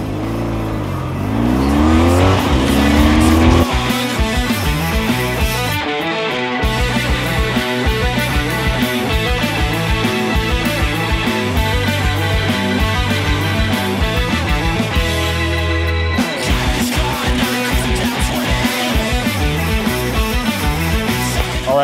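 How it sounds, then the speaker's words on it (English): A 1990 BMW R100 GS boxer-twin motorcycle built by Revival, ridden on Texas Hill Country roads, its engine droning loud and steady up close with a brief revving rise near the start and a short break partway through. "I'm riding this 1990 BMW R100 GS built by Revival to four of the Hill Country's best barbecue spots."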